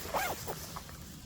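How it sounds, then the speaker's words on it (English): A zipper on a winter hammock insulation layer is pulled in a couple of quick, close rasping strokes, faint and brief against quiet outdoor background. "If I can line the zipper thing up"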